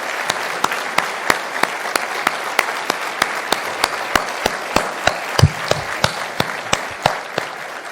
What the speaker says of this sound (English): for a well-deserved round of applause.